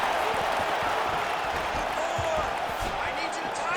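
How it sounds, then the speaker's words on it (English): A live MMA fight crowd roars in a continuous, dense wash of noise, with dull thumps of strikes landing beneath it. "you hear the crowd react every time they come together"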